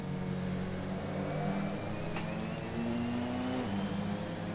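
A DPi prototype race car in a Le Mans racing video game drones past. Its steady engine tone shifts in pitch as it goes by, with no talking over it.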